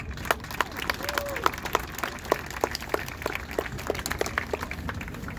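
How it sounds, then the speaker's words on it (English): Scattered clapping from a graduation audience, a steady patter of individual claps at moderate distance, fairly sparse rather than a full ovation. "Let's give a round of applause for them."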